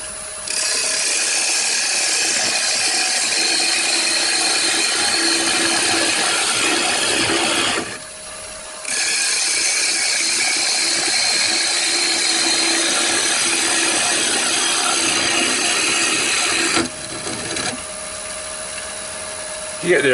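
A woodturning tool cuts a cherry wood bowl spinning on a lathe, giving a loud, continuous scraping whir that drops out briefly twice as the cut pauses, then resumes.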